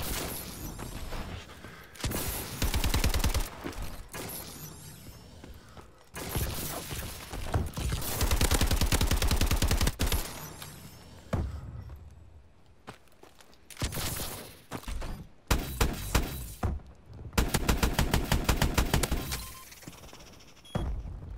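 A low-stopping-power gun fires in a Call of Duty: Advanced Warfare match, giving long runs of rapid, clattering shots in bursts that start and stop, loud and close, with short gaps between volleys.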